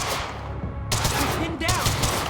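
Gunfire in the video game Quantum Break, bursts of rapid shots crackling loudly in two clusters separated by a brief lull, with a voice speaking underneath.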